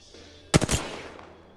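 A quick burst of three or four rapid gunshots in Apex Legends, loud and close, cracking out after a quiet stretch and trailing off into a short echoing tail, with no talk.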